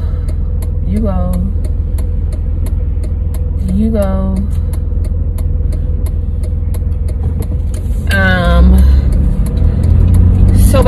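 A car being driven on the road to the store, its engine hum steady and fairly loud inside the cabin, with someone talking over it at intervals.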